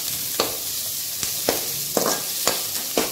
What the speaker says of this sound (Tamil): நல்லா golden colour brown golden colour வர அளவுக்கு